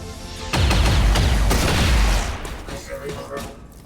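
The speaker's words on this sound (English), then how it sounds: "So, okay, we can shoot, because then he's dead." Heavy gunfire from the strategy video game XCOM 2 bursts in after a half-second lull, a loud, booming volley lasting about a second and a half before fading into a rumbling tail.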